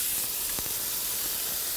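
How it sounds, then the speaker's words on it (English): White wine hitting a hot pan with grilled halibut, giving a steady broadband hiss and sizzle of steam throughout, fairly loud and close, with no talking. "It really starts sizzling"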